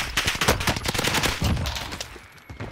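Rapid bursts of Armaguerra 43 submachine gun fire in a first-person shooter video game, loud, near and dense, with repeated sharp cracks running through the stretch and no talk.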